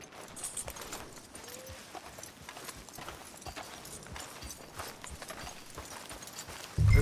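Horse hooves clip-clop at a steady walking pace in Red Dead Redemption 2, moderately loud, ending with a sudden low thump.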